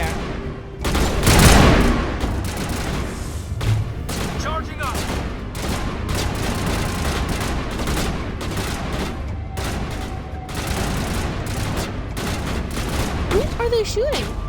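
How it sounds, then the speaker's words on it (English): Gunfire from the video game Mass Effect 1, a dense run of rapid shots and bursts crackling steadily throughout, with a louder blast near the start and faint game voices and effects mixed in. "Who are they shooting up there?"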